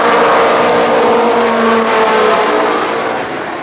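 Stock cars roar around the Columbus Motor Speedway oval, a dense, loud wash of engines at racing speed that swells and then eases slightly as the pack moves on, with no voices over it.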